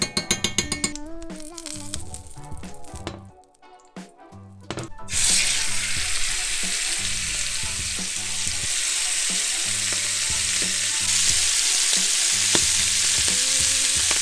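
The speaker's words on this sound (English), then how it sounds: "It sort of requires 1 or 2 minutes to sear on both sides" Steak searing in ghee in a cast iron skillet, a loud, steady, close sizzle that erupts partway through after some quieter clinks and handling.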